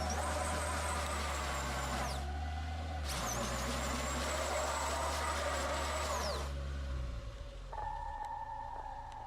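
A car stuck in snow on a winding mountain road in Romania, its engine straining in long high revving bursts that cut off and resume, then falling to a lower steady hum near the end.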